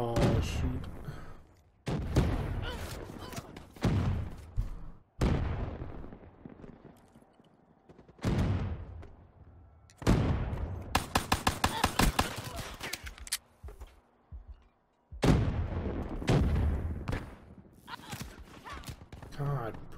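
SMG fire in Call of Duty: Black Ops 3 comes in several loud, close bursts separated by quieter pauses, including one rapid rattling spray, with game effects in between.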